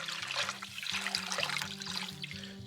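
Water running by hand into a container in a barn, a steady trickling and splashing flow heard up close with no talking.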